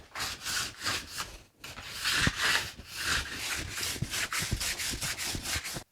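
Steady back-and-forth sanding strokes on a wooden sailboat mast, sanding to 220 grit, a rhythmic abrasive rasp with a brief pause partway through, close and fairly loud.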